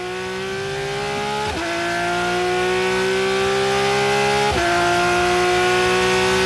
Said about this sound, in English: On board in the Veltins MRS car of Jan Seyfarth